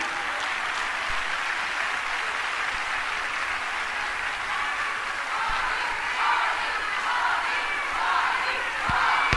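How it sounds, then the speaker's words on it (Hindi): Loud, sustained applause from a large audience at a BJP political event in a stadium, a dense continuous wash of clapping that swells slightly toward the end, with no voice on top. "एक बार जोरदार तालियां हम अपनी इस संगठन के लिए"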